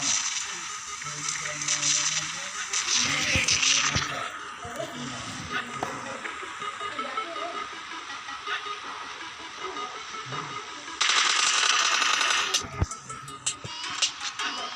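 Gunfire from the PUBG Lite video game as an enemy gets knocked down, with bursts of sharp shots near 3–4 seconds and again around 11–13 seconds over steady game ambience.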